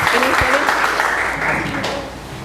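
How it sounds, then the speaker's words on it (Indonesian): A classroom claps in a steady, dense patter of applause, with voices mingling underneath. "Tepuk tangan untuk Celine."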